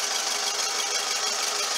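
A 2012 Scion xB four-cylinder engine with 60,000 miles idles with a steady, fairly quiet hum and faint rapid ticking, close by and unchanging throughout, with no speech.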